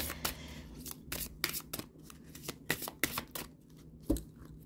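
Tarot cards are shuffled by hand, close and fairly quiet. Quick riffles and flicks come in an irregular run of sharp papery bursts.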